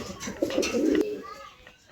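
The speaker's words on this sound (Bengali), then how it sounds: "এটি একটি বাংলা গিরিবাজ কবুতর।" A Bangla Giribaz pigeon coos in a low, soft, throaty burst up close, rising briefly then fading into quiet background.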